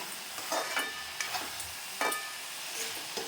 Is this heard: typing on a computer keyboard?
no